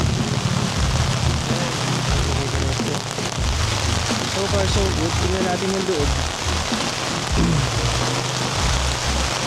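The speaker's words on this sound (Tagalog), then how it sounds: "Take note, medyo malakas yung ulan" Heavy rain drums steadily on a Montana Villa 13 tent, a dense hiss and patter close around it, while someone speaks over the downpour.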